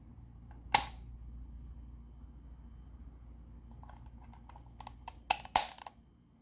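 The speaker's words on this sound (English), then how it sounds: "The menu buttons have clicky mechanical switches." Crisp mechanical button clicks from a Flydigi game controller's menu buttons sound close up: one sharp click early, then a quick cluster of clicks near the end over a faint hum.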